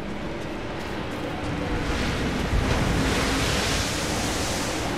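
Ocean waves in the video game Rise of the Tomb Raider, inside a tomb near a whirlpool sanctuary, rush in a steady, full wash that swells a little louder midway, with no talk over it.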